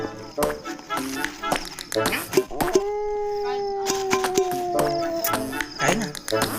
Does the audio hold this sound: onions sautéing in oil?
no